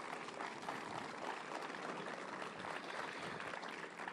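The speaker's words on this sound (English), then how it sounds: "Let's give Tim another great big round of applause." Steady, dense applause from an audience at the groundbreaking ceremony for an ocean tech hub at the Port of Los Angeles, sounding faint and somewhat distant and continuing evenly throughout without pause.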